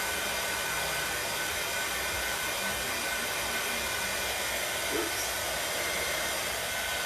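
A hair dryer blows steadily on painted wooden pumpkins, a continuous close, even rushing whir that holds without a break for several seconds, with no talking over it.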